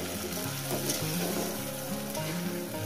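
A spice paste for parshe fish curry sizzles steadily in a pan after a splash of water from rinsing the grinding bowl, a dense continuous frying hiss with soft stirring scrapes throughout.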